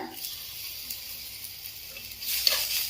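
Ginger garlic paste added to reddened fried onions in a pan: a quiet low hiss that swells into a brighter, louder sizzle in the final second, heard close by.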